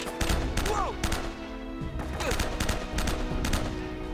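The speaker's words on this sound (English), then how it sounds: "Ooh, I like this gun." Gunfire from Uncharted: Drake's Fortune on PS3, a third-person action game, comes in several sharp, evenly spaced shots over game ambience, loud and close, with short gaps between bursts.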